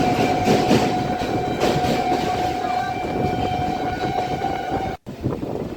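Kolkata Circular Rail train running between Dumdum and Majerhat via Ballygunge, a steady loud rumble with a sustained tonal whine throughout and a brief dropout near the end.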